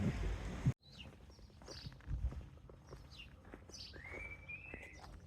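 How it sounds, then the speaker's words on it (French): Gulls cry a few times in the distance over a quiet outdoor background on a coastal footpath, thin high calls rising and falling, with soft footsteps nearby. "On entend un peu le bruit des mouettes."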